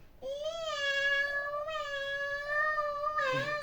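A cat gives a long, drawn-out meow, close and loud, followed by a shorter second cry, with no talking.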